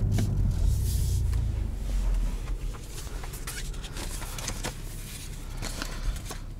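A sports sedan's 3-liter inline-six engine with an 8-speed automatic, heard from inside the cabin as a steady, loud low rumble that eases slightly after the first few seconds, with no talking.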